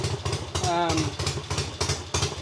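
A cold motorcycle engine idles steadily while warming up before a test ride to diagnose a loss of power, a continuous low rumble close by with some clatter throughout.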